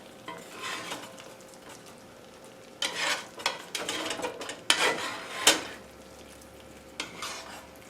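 A spoon stirs and scrapes sauce over turkey meatballs in a pan, giving intermittent clinks and rubbing strokes against a low sizzle, with no talking.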